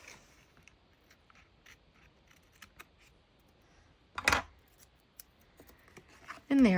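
Scissors trim paper in a creative journal, with faint scattered snips and paper handling, then a louder cutting rustle near the middle and another sharp burst at the end, close and quiet.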